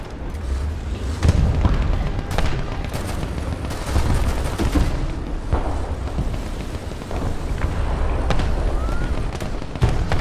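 Naval ship guns fire in a War Thunder sea battle, sending repeated heavy booms through a dense, loud, continuous roar of battle noise without any talking.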